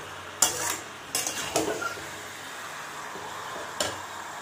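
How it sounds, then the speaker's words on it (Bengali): Chicken masala is stir-fried in a pan on high flame, a low sizzle under a few sharp spatula knocks and scrapes against the metal, spaced unevenly, with quieter stirring between. "দুই থেকে তিন মিনিট হাই ফ্লেমে এটাকে কষে নিন"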